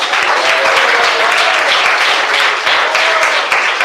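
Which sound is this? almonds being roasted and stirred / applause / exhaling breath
applause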